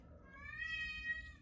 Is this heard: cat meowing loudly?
yes